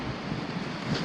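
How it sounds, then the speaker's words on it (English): Steady wind blows at a paved Florida campground beside a canal near Lake Okeechobee, a low continuous rumble with faint microphone buffeting and no voices. "It seems to get very windy here once it starts to warm up in the afternoon."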